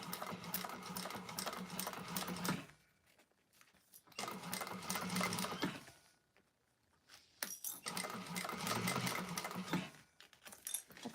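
An industrial sewing machine stitches a bag exterior in steady bursts, running for a few seconds, pausing briefly, then running again, loud and close with no talking.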